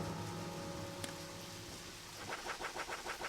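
Rain falling in the video game Deadly Premonition, a steady broadband hiss with a low engine-like hum at first, then a rhythmic pulsing patter, no talk.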